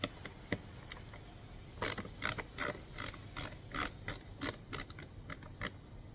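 A ratchet tool removes screws from the interior trim of a 2023-or-later Honda CR-V, making a quick series of close mechanical clicks after a couple of isolated taps, with no talking.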